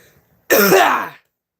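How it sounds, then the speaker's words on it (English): One harsh, throaty cough close to the mic, a single burst of under a second against an otherwise quiet room. "I got a cough and it won't go away"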